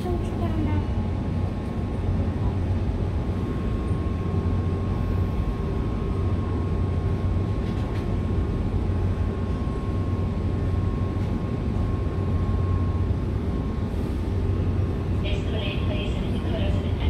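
KTX-Sancheon high-speed train bound for Gangneung pulling into and departing Cheongnyangni Station, a steady loud low rumble and drone with a sustained tone throughout, heard alone with no talk.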